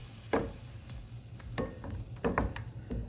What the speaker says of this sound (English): We're just going to stir this until it's a gentle simmer.